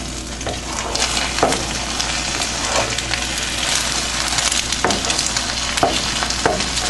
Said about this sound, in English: We're gonna mix it. Everything should be mixed.